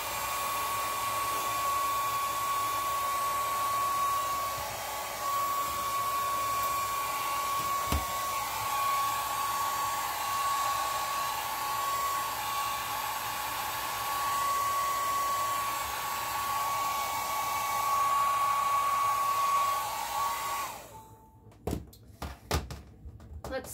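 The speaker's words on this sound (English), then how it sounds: "The bat is still a little wet, so I'm gonna hit the hair dryer to it," Hair dryer blowing on wet paint on a canvas: a steady, fairly quiet whir with a high whine runs unbroken for about twenty seconds, then cuts off, followed by a few light knocks.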